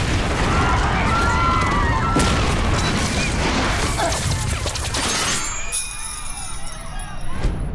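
A bomb goes off at the Olympic Park in a film scene, a loud crashing blast with shattering debris and rumble, then ringing, crackling aftermath as the noise thins out.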